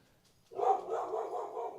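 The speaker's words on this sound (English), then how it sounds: "You got a barking dog." A dog barks from a distance after a quiet start, a faint bark or two followed by a muffled, sustained yap.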